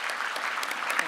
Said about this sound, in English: another round of applause for Maria, who's being so incredibly brave.